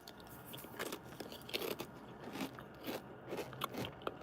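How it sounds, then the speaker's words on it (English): A chip being bitten and chewed right at the mouth gives a close, loud run of crisp crunches and crackles in an uneven rhythm, with no talking. "I'm going to have a chip. So I will be crunching in your ear tonight."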